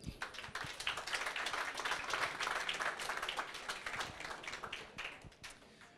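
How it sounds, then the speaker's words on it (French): An indoor audience at a club gathering applauds, producing a sustained burst of scattered, crisp hand claps that swells and then tapers off over several seconds, fairly quiet overall. "On peut l'applaudir."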